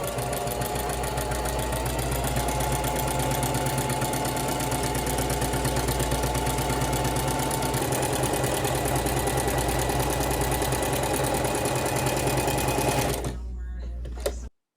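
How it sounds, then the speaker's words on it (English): A sewing machine set to its longest stitch runs a continuous gathering seam along one fabric edge without backstitching. The whirring, knocking motor is steady and close for about thirteen seconds, then stops abruptly. "we're going to go with the longest stitch on your machine, and we're going to sew along one edge"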